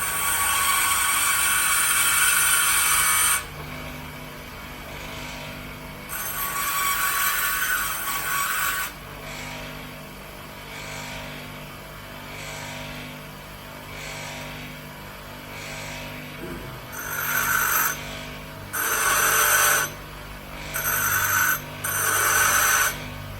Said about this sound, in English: First thing I'm going to do is grind it to a V so that it's got more to bite on.